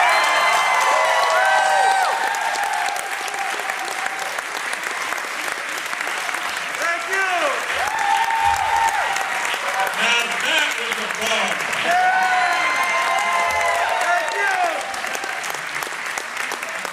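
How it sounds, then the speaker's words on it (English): A crowd at a memorial tribute claps steadily and loudly for the whole stretch, with some cheers and whoops rising over the applause. "clap your hands if you've ever been to the Windjammer"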